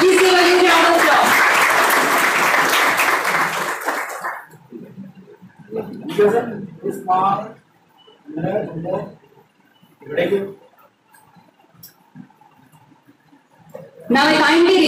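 Loud audience applause at a university induction program for first-year students in Pune fills the opening seconds, gives way to someone speaking, then returns briefly at the end.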